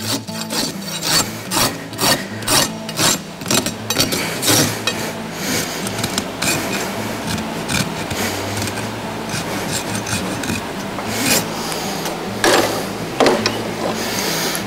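Rasp filing the burrs off clinched horseshoe nails on a horse's hind hoof, shod with Kerckhaert Dura Plain shoes; close, steady rough scraping strokes in a repeating rhythm, with no talk.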